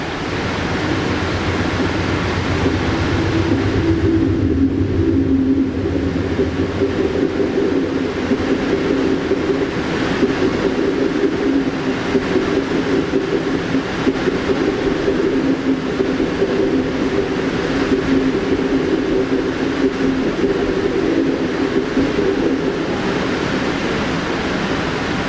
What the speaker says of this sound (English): So we're departing the siding after meeting Amtrak 51, the other Cardinal.